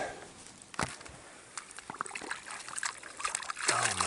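Water trickles and splashes over a chunk of agate as it is wetted and washed clean outdoors, a soft, uneven dribbling with a few sharper splatters, fairly quiet and without talk.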